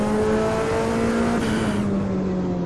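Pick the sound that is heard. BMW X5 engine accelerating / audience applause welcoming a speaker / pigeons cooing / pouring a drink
BMW X5 engine accelerating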